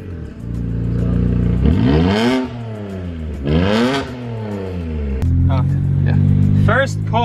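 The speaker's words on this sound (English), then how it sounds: "First pull, catless downpipes, muffler delete" A BMW 135i with the N54 engine, catless downpipes and a muffler delete revs hard through rising and falling pulls, a loud raspy roar climbing and dropping several times up close, with crackles between revs.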